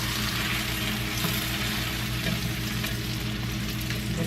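A stuffed grilled cheese sandwich filled with onions and mushrooms sizzles loudly in a pan, giving a steady close frying hiss over a low constant hum, with no talking.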